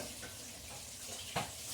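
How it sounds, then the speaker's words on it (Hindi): Oil going into a hot pan for white pulao, a soft, steady sizzle with a faint clink near the end, quiet and close, with no talk. "ये तेल डाल रहे हैं"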